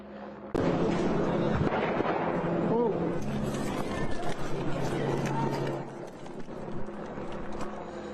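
Fully automatic gunfire from a street shooting in Philadelphia, many rapid shots in loud, dense bursts from about half a second in, mixed with voices and street noise.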